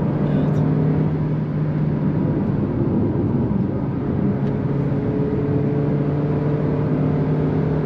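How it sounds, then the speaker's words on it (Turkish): A Suzuki S-Cross hybrid's engine revs hard toward 6000 rpm, a loud, steady drone with a constant hum heard from inside the cabin during a test drive. "Bak 6000 devirlere kadar çıkabiliyoruz."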